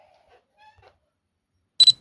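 Beeps from a DJI Mini 3 Pro drone camera as its autofocus works: a short pair of quiet electronic beeps near the end after a near-silent stretch.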